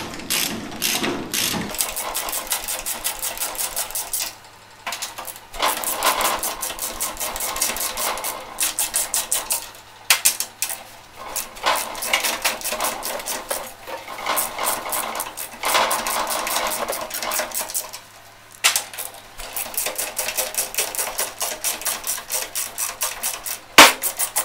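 A ratchet wrench clicks in rapid bursts as four size-15 bolts come off a cover on a VW Beetle, with pauses and metallic clinks between the runs of close, dry ratcheting.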